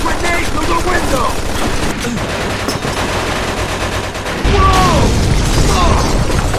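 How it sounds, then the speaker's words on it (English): Machine gun fire rattles in the Mafia II video game, loud and dense, in rapid sustained bursts with heavier booming hits layered over a battle din, while voices shout over it. "Looks like we found the machine gun!"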